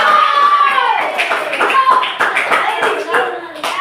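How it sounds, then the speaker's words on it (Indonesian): Classroom applause from a group of students clapping hands together, a dense continuous patter of claps lasting a few seconds, close and loud, with children's voices calling out over it. "Tepuk tangan dulu."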